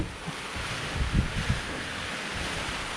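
Strong typhoon wind (Typhoon Opong) rushes steadily against the microphone, a constant broadband roar with low gusty buffeting.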